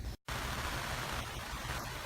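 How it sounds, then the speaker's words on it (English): Rain falling on an outdoor canopy, a faint, even hiss of drops with a brief dropout near the start and no talking. "The rain's starting to pick up."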